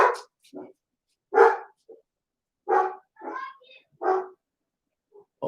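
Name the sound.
dogs barking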